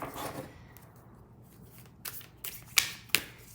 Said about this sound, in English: So I'm going to shuffle a little bit, and then we're going to cut it and choose